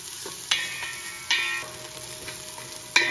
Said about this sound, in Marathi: तेलामध्ये पहिला आपल्याला एक छोटा कांदा बारीक चिरलेला तो घालायचा आणि हा छान परतून घ्यायचा